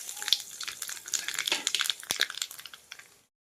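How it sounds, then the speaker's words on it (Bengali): Whole spices including bay leaf, garam masala, nigella seeds and dried red chillies crackle and sizzle in hot oil as a tempering for a doi potol curry, a close, busy spatter of pops that fades out near the end. "ফোড়ন হিসেবে দিয়ে দেবো তেজপাতা, গরম মশলা, কালো জিরে, শুকনো লঙ্কা, সব একসাথে দিয়ে দেবো।"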